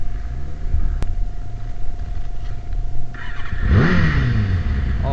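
An engine on a Reliant three-wheeler runs at a steady idle close by, then is revved hard near the end, the pitch climbing quickly into a loud roar.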